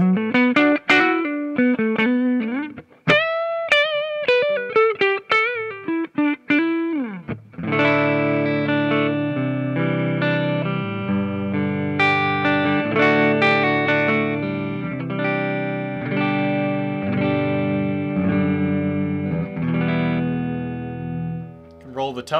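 A 2021 PRS McCarty 594 Hollowbody electric guitar plays on its neck pickup with a clean tone, first picking separate ringing notes, then strumming full sustained chords, close and loud without talk.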